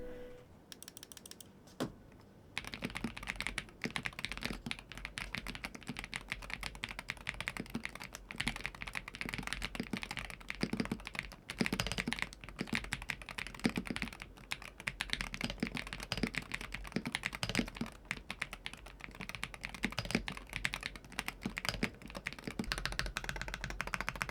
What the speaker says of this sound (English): here's a little sound test with the keycaps and the switches on